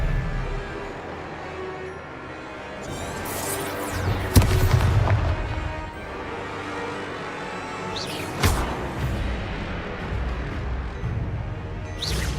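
Spell-casting effects in Hogwarts Legacy, with sharp magical cracks and whooshing bursts over a steady rumbling background. Two distinct loud impacts stand out a few seconds apart.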